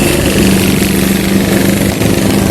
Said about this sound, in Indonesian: Oke, motor chopper